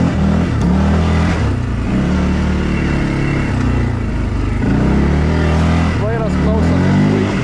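A 4x4 quad bike engine rumbling and revving while driving over rough forest ground, loud and close throughout, with someone talking over the engine noise.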